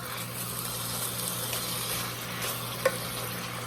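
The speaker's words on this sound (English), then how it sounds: "We just want to stir that around so that all of the sugar crystals get a little bit wet in the juices and the butter" Sugar is stirred into chicken juices and butter in a hot pan, giving a steady, close sizzle with soft scraping and one brief knock of the utensil against the pan.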